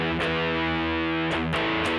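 An electric guitar runs through pentode-style distortion programmed on a Sigma DSP ADAU1452, with a sustained, buzzy distorted chord restruck a few times.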